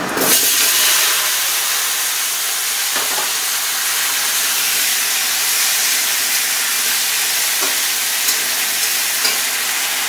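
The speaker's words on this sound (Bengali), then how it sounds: "এবার আমি তরকারিটা, কাঁচা তরকারি আলু আর কুমড়ো ভেজে নেব।" Raw potato and pumpkin pieces fry in a pan, producing a loud, steady, steamy hiss with a few faint stirring knocks and no voices.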